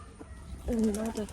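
A single soft, low pigeon coo rises near the end of a quiet moment, close by.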